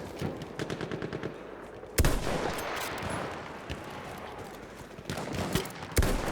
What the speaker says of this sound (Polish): ja strzelam z dystansu